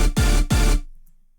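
Rave stab synth chords with all effects switched off, two loud, dull stabs in quick succession followed by a short fading tail.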